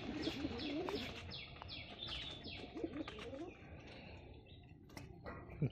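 Pigeons coo repeatedly in a loft, with soft throaty rolling calls and scattered chirps overlapping near the microphone, while people talk quietly in the background and a few sharp clicks sound toward the end.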